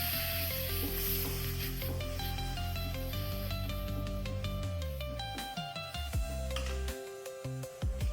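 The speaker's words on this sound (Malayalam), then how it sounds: "നല്ലവണ്ണം വഴറ്റി കൊടുക്കാം." Squid roast masala sautéing with ground tomato in a pan, a steady sizzle and stirring running throughout under continuous background music.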